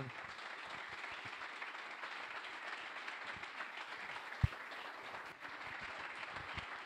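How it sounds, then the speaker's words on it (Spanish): Audience applause at a Startup Grind Barcelona talk, a faint, distant wash of clapping held steady and even throughout, with a couple of brief knocks partway through. "un fuerte aplauso"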